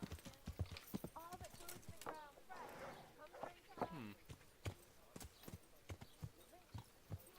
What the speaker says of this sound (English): Is that horse Rapota's horse?